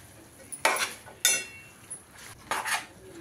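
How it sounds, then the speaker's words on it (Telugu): A spoon scrapes and clinks against a pot as Hyderabadi-style green chicken curry is stirred with spices. Three or four distinct metallic strokes come close and clear over a quiet background. "అన్నీ వేసుకొని ఒకసారి బాగా కలుపుకొని మూత పెట్టేసుకుందాం."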